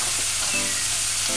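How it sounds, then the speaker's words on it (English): A pan of seasoning sautés on low heat before shredded cabbage goes in, a steady, close, dense sizzle that fills the whole moment without a break. "And then add your shredded"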